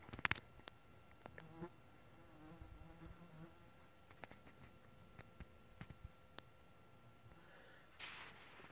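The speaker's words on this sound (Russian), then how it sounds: "Рой мух." A swarm of flies buzzes around a blueberry patch outdoors, a faint, steady insect drone with scattered sharp clicks and ticks.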